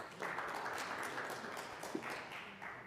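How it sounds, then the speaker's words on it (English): Steady applause from a crowd, moderately loud and continuous, with a few sharper claps standing out near the end. "a round of applause for him"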